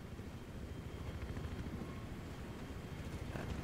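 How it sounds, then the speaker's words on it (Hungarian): A helicopter in the Battlefield 3 video game gives a steady, continuous rotor and engine drone that stays even and fairly loud throughout, with no talking. "Lássunk most egy helikoptert, ha nem megy el előttünk, hogy ez hogy is működik."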